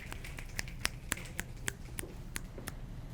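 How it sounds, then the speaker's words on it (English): A dozen or so crisp finger snaps from an audience at a university talk, scattered and uneven over a quiet room, each snap sharp and distinct. "Can we get some finger snaps for that?"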